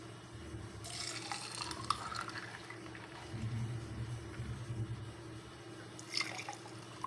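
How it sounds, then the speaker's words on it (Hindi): Musk melon milkshake pours into a glass in a soft liquid stream, swelling near the middle and ending with a brief splash, faint and quiet with no talking. "अब मिल्क शेक जो है वो गिलास में डाल लेंगे।"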